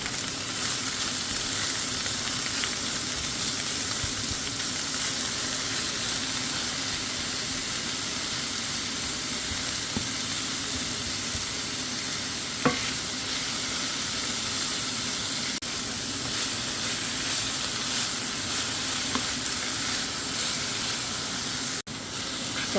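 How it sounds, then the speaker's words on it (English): Onion, carrots and garlic sizzle in sunflower oil in a pan for an Indonesian stir fry, a steady close crackling hiss with occasional light stirring scrapes throughout. "We're gonna heat this and stir until onion is fragrant"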